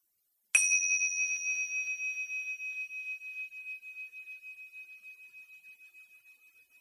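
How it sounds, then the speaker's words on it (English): A single bell is struck once and rings out clearly, its pure tone slowly fading over several seconds in an otherwise silent space. "when you hear the bell, you can bring your attention back"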